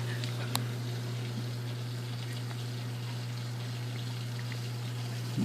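Water streams steadily out of unfinished plumbing fittings in a running reef aquarium, a soft continuous rush over a constant low pump hum, with one faint click near the start.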